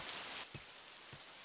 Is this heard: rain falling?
yes